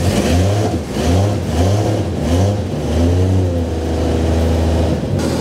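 A car engine runs with the gearbox in neutral, a loud, steady mid-pitched drone with rhythmic swells like light revving, close by and alone without talk.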